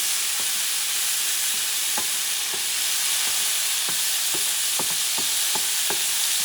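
Artichoke quarters stirred in a sizzling paella pan for Paella Valenciana, a steady frying hiss broken by irregular clinks and scrapes of the utensil against the metal, close by.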